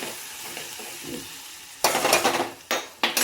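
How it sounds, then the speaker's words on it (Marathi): Chili thecha stirred into hot oil tempering with curry leaves in a pan, a soft scraping at first, then loud sizzling bursts and frying hiss as the mixture is stirred, close up. "आता इल्लीमध्ये ठेचा छान असं हलवून घ्यायचं"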